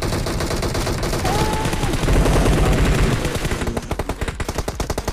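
Gunfire in PUBG Mobile from a camper, a dense burst of shots in the first seconds followed by a rapid, evenly spaced string of sharp cracks toward the end, fairly loud.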